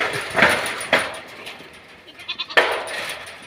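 Goats and young kids bleating in the desert near Medina: several loud, separate bleats ring out from close by, with quieter rustling and shuffling between them.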